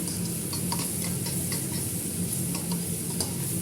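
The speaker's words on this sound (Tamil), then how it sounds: "இதை நல்லா வதக்கணும் இஞ்சி பூண்டு பேஸ்ட்டு வதக்கிட்டு" Ginger garlic paste sautéing in a pan for egg gravy, a steady loud sizzle with faint clicks of a spoon stirring through it, no voices.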